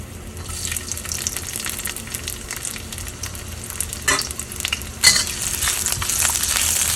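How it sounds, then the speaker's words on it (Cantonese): Ginger slices and shallots fry in a hot wok, a loud, continuous sizzle with spatula scrapes and a few sharper clanks against the metal, growing more intense toward the end. "放薑片同乾葱起鑊啦。"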